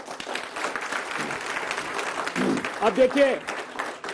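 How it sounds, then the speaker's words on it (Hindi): Audience applause at a televised political debate with students, a continuous patter of clapping that swells near the end, with someone speaking over it. "महंगाई पर भी आपको लोगों को ताली बजानी पड़ रही है"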